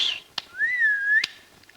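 People whistling: a short high note, then one clear sustained whistle that glides up and levels off, with a couple of faint clicks around it and no talking.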